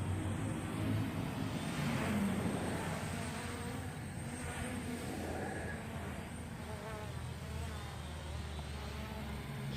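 A JJRC X1 toy drone flies at night with a continuous insect-like buzz of small motors and propellers, faint and steady, wavering slightly in pitch as it moves around.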